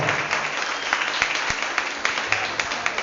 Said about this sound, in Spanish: ¿Cuántos le dan un aplauso a Dios por ese evento?